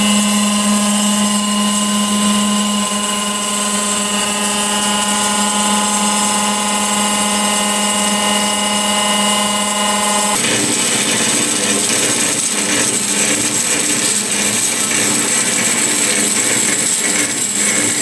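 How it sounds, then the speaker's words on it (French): Metallkraft HMBS 300 x 320 CNC metal band saw running loud and steady, a tonal motor whine that changes about ten seconds in to a harsher, broader grinding roar as the blade descends and cuts through the workpiece. "Ça va mettre en route la lame, et aussi effectuer, bien évidemment, libérer l'archet et effectuer la coupe de descente."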